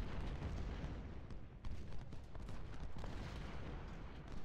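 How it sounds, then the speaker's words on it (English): Canister artillery fire in the Ultimate General: Civil War game booms in a dense, rumbling barrage, low blasts overlapping into continuous battle noise with a short dip in the middle. "we're still eating canister fire on our way up"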